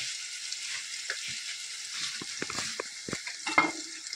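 Malvani liver masala (kaleji) stirred in a frying pan, with soft sizzling throughout and a few distinct scraping and clinking strokes of the spoon against the pan, growing busier toward the end.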